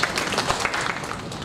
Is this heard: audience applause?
yes